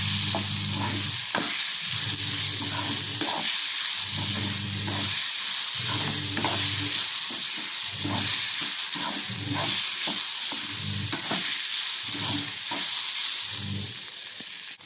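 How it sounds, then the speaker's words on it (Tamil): Onions frying in a pan while being stirred to keep them from sticking, for beef masala: a continuous close sizzle and hiss broken by rhythmic scraping strokes of a spoon every second or so, with no talking. "வெங்காயம் அடி பிடிக்காமல் கிண்டி விட்டுக்கோங்க"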